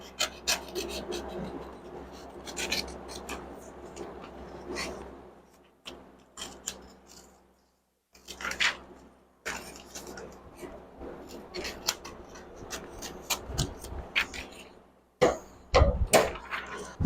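Cutting a paper hood template along a line for a Pontiac Firebird 400 aftermarket hood emblem: close, rasping scissor strokes and paper rubbing come in uneven bursts, separated by short pauses.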